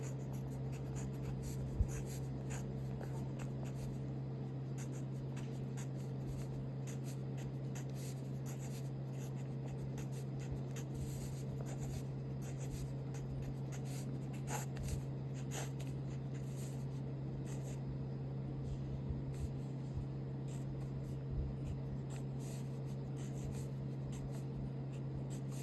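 Pen or marker writing out a matrix by hand for an eigenvalue problem, a faint steady scratching over a constant low electrical hum with no talk.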